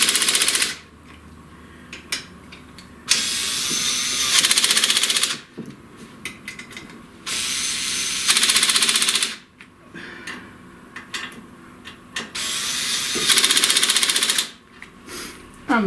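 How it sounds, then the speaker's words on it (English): Gantry retaining screws on a CNC router mechanical kit are tightened with a power driver, which runs in several loud buzzing bursts of a few seconds each, separated by short pauses with faint clicks and handling noise. "Then tighten up the gantry retaining screws."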